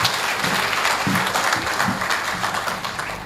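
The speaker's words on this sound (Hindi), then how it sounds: "आप तालियों से स्वागत करें" A crowd at a kavi sammelan mushaira applauds to welcome a poet to the stage, dense continuous clapping that starts strong and gradually eases off.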